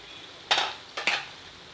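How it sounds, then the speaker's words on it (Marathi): A pan of tondli (ivy gourd) vegetable curry is stirred after the lid comes off, giving two short scraping swishes of a spoon against the pan over a quiet background. "आपण झाकण उघडून भाजी हलवून घेणार आहोत."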